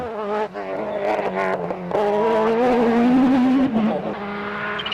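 A Citroën Xsara rally car speeds along an Alsace stage of the 1999 rally, its engine revving up and down through gear changes in a loud, close, strained howl.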